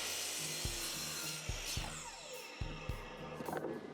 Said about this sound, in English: I excavate my miter saw and cut everything to length.